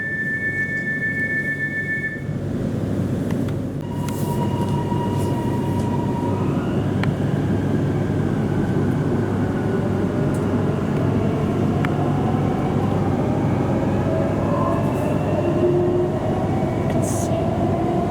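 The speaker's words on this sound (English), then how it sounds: "I love the motors on the train." Electric motors of an HCMT train whine with rising and falling tones over a constant rumble of wheels on track, heard from inside a moving carriage between Melbourne suburban stations.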